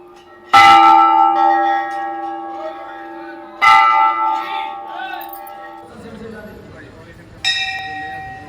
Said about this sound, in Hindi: मेरा बच्चा मेरा कोशिश कर रहा है घंटा बजाने का